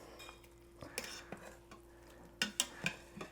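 Collard greens with bacon stirred in an Instant Pot, a few short scraping clinks of a utensil against the metal pot with quiet gaps between strokes, close by and fairly soft.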